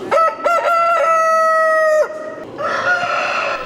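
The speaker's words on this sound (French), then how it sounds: "la rue de la salle Pierre Chaillère de Fontoy s'était réveillée au chant du et des coqs" Roosters crow at a poultry exhibition in a village hall, one long, loud, clear cock-a-doodle-doo close by after short clucks, then a second, rougher crow answering.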